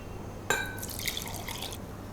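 Thin milk poured into a lentil curry (dhal), a sudden splash followed by a soft gurgling pour lasting about a second, then a quiet background.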